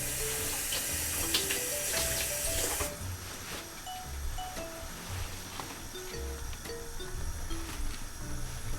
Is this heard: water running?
yes